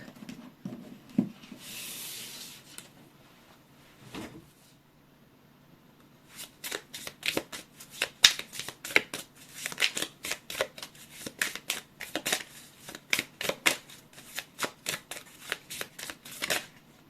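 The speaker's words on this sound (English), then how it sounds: "I want to shuffle one more deck." A deck of cards being shuffled repeatedly, with a soft riffle early on, then a long run of rapid crisp flutters and snaps, close and clear.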